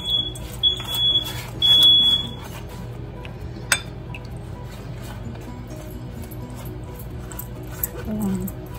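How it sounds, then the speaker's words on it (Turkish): A home smoke alarm goes off from cooking smoke while leek börek bakes, giving short repeated high electronic beeps in a loose pattern near the start over kitchen background noise, followed by a sharp clink. "Yangın alarmı öttü arkadaşlar. Duman oldu çünkü."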